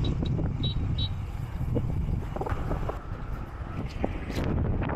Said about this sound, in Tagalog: Dahil sobrang lakas ng headwind